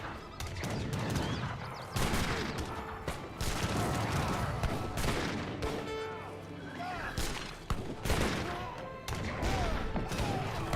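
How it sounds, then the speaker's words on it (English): A heavy cannon volley in Age of Empires 3 lands as a dense barrage of booming shots and thuds, with repeated impacts and crashes filling a battle scene. "Heavy Cannon does get a good volley there"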